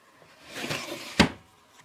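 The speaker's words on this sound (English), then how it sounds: "I just open the drawer and I can see what I've got." A jewellery drawer in a bedroom being pulled open: a brief sliding rub that builds, then ends in a sharp wooden knock as it stops, close and clear with no talk.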